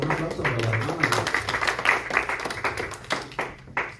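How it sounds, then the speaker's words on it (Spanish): Clapping for a sister at a church Bible lesson, a small group's scattered handclaps over a low background hum and faint voices, thinning out near the end. "Un aplauso para la hermana."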